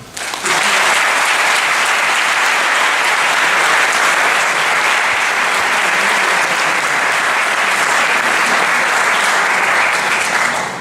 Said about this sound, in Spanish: muchas gracias a Manuel Toaria y un aplauso